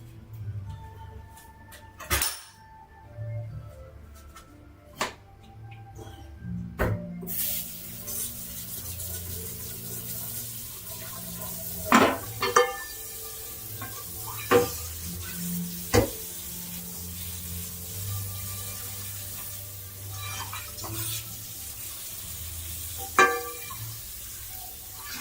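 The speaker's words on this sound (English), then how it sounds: "Let's wash the rest of the dishes." Dishes and pans, including nonstick pans, are washed at a kitchen sink: running tap water flows throughout under sharp clinks and knocks of crockery and metal, with the water rising louder partway through.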